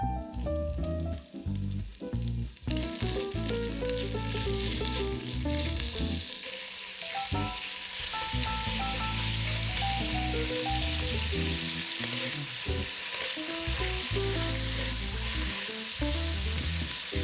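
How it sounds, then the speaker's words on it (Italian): Pancetta sizzling and crackling steadily in three spoonfuls of oil in a hot pan while browning for ragù alla bolognese, a dense, continuous frying hiss with faint background music throughout. "Sentite come sfrigola."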